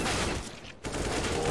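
Dense pistol gunfire from USP handguns during a competitive Counter-Strike match, a steady crackle of shots that briefly thins before resuming at full intensity.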